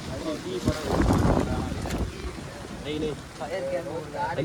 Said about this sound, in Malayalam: നല്ല കാറ്റ് വീശുന്നുണ്ട് കേട്ടോ കാറ്റ് നല്ല കാറ്റാ